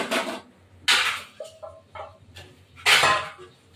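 Potato and paneer pieces drop into a pan of hot oil with sharp sizzling bursts and clinks of a utensil against the metal, three main splashes separated by quieter scrapes.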